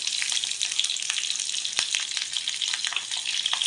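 Garlic and green chillies fry in hot oil with a dense, steady crackling sizzle, loud and close, with a few louder pops and spatters breaking through.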